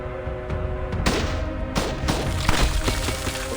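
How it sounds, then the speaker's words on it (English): Gunfire in the video game Reverse: 1999, heard as a dense run of sharp cracks and impacts over a continuous tonal music bed, with several louder bursts clustered near the middle and end. "Bullets hit a wall of ice before it reaches him."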